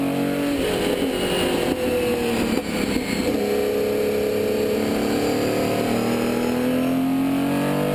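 Porsche 917K race car engine revving hard and roaring past, its pitch climbing and falling through gear changes, loud and continuous with no talking.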